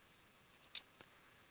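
A few quiet, crisp computer mouse clicks come in a quick run of three followed by one more, each sharp and brief against near silence while working in CAD software.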